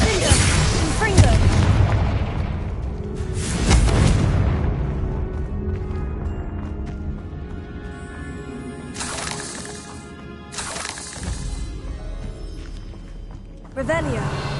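Blasting spells detonate in Hogwarts Legacy: heavy booms and shattering bursts around 1, 4 and 14 seconds, with a quieter crackle between them. Voices call out spell names throughout.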